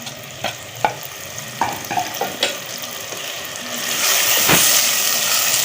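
Ginger garlic paste and green chili being stirred in a pan while cooking lentil masala: scattered scraping and clinking stirs over a soft sizzle, with a louder steady hiss building toward the end, no talking.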